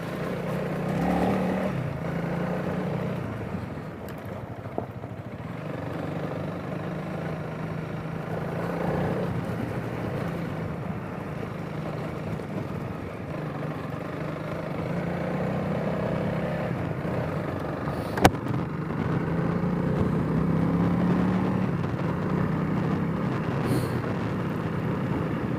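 A Honda CRF300L motorcycle ridden on a very windy day, a low, steady engine drone mixed with heavy wind rumble throughout, with one sharp click partway through and no talking.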